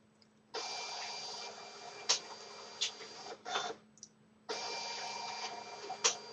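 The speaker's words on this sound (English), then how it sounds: "behind me, the scanner is loading the pages" A document scanner with an automatic feeder pulls pages through in two long whirring passes, with clicks and short mechanical bursts between them under a faint steady hum, nearby and without talk.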